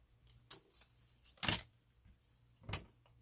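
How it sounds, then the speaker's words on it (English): Scissors snip through paper in three sharp, quiet cuts spaced about a second apart, close up, with faint paper rustling between them and no talking. "And then just snip"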